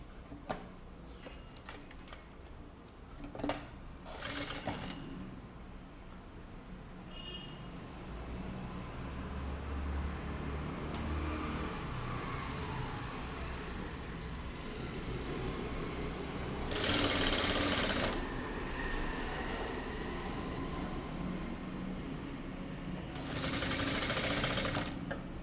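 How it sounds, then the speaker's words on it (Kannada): A sewing machine runs edge-to-edge seams on a kurta as a faint, steady mechanical whir, with two louder stitching bursts rising above the quiet background. "ಸೊ ನೋಡಿ ಕರೆಕ್ಟಾಗಿ ಎಡ್ಜ್ ಟು ಎಡ್ಜ್ ಸ್ಟಿಚ್ ಮಾಡ್ಕೊಳ್ಬೇಕು."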